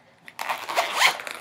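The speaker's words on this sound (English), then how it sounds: "It has little zippers, opens it up." A small zipper on a compact travel case is pulled open in one quick, close, raspy stroke lasting about a second.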